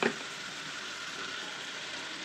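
Chicken with turmeric and salt is sautéed in a pan for a potato chicken curry, producing a soft, even, continuous hiss of frying that stays fairly faint after a brief louder crackle at the start.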